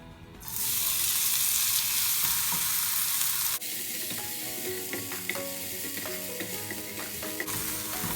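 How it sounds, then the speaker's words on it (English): Dried shrimp sizzle loudly in hot oil, a steady crackling hiss with occasional pops and stirring scrapes, and no one speaking. "Frying the shrimps gives them a nice flavor."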